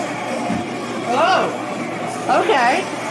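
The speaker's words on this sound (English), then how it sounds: "We also used group vocals on Styanax's ultimate ability, the army ability." Group walla vocals for Styanax's army ultimate ability in a video game: a crowd of voices murmuring and swelling in two surges over a steady ambient bed, evoking surrounding apparitions at moderate loudness.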